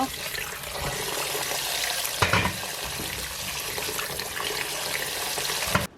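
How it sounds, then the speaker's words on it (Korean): Salted cucumbers are rinsed under running tap water in a sink, a steady close splashing flow with a few louder sloshes before it stops abruptly at the end. "이제 물 빼고 헹궈 주겠습니다."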